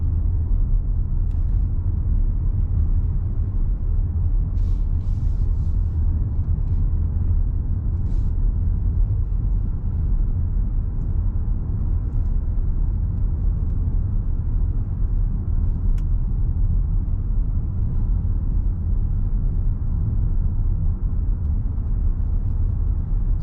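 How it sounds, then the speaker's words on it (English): Cabin sound of a 2023 Nissan X-Trail e-Power hybrid driving smoothly on the road: a steady, low rumble of tyres and drivetrain with faint wind noise, continuous and even throughout, with no talking. "Very nice ride, very smooth, obviously very quiet, electrically controlled vehicle."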